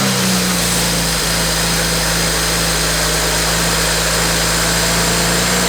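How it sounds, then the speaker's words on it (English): A BMW 335i engine with catless downpipes idles steadily on a test start with a constant low rumble and hum, running continuously without revving, fairly loud and close. "we want to test start the car to make sure there's no major leaks"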